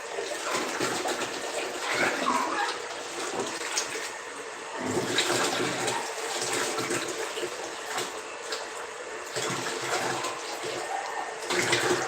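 Water from a barrel trickles and splashes unevenly in repeated bursts that start and stop every few seconds, at a moderate, fairly close level with no voices.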